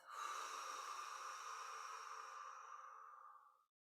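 A long, steady breath pushed out through the mouth during a relaxation breathing exercise, a soft airy rush lasting a few seconds and fading away at the end, close and alone with no talking.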